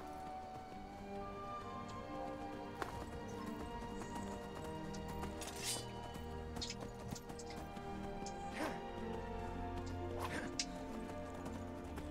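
Horse hooves clip-clop in the video game Skyrim, a rhythmic trotting patter under steady game music, with occasional sharper thumps and a whinny-like cry.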